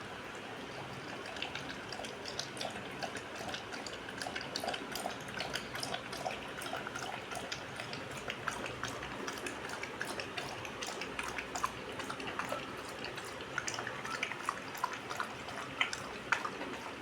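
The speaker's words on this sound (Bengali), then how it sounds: "বাহ, সব জল খেয়ে নিয়েছে" A pet dog laps cool water mixed with glucose and a little sugar, giving a steady stream of quick, close wet ticks and drips that run unbroken throughout.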